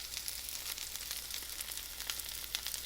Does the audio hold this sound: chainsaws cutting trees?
no